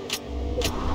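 A car engine in the Fortnite video game hums steadily and close by, with two short, bright bursts over the low drone.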